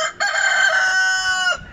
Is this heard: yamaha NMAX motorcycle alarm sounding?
no